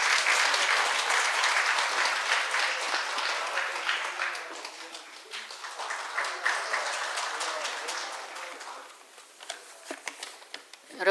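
Loud, sustained applause from a large audience at a Korean hospital-sector labor-management meeting, steady clapping that gradually thins and fades toward the end.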